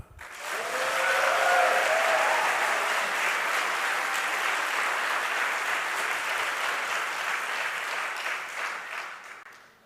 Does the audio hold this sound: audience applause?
yes